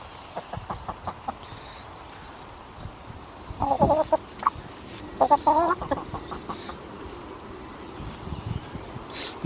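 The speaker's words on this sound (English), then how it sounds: "And there we have 4 very happy chickens." Four hens in a backyard garden cluck and squabble close by, with scattered short clucks rising into a busier, louder flurry midway before settling again, over a soft outdoor background hum.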